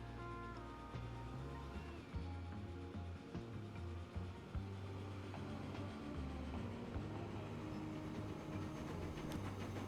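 Freight train in Transport Fever 2 pulling into a station, a steady low rumble of rolling wagons with tonal hums and occasional clanks, loud and continuous under a busy game soundscape.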